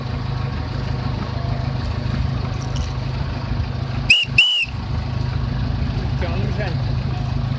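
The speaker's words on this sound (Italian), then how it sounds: "Fischia a quello, fischia a quello." Two short, loud whistles blown in quick succession to signal someone near the Strait of Messina, cutting through a steady engine rumble with voices nearby.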